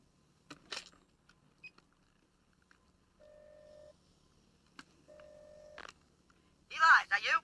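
A telephone is lifted and dialed in a Sicilian mafia cartel film: clicks and handling noises, then two steady tone bursts from the line, ending in a brief louder burst of noise, with no talk over it.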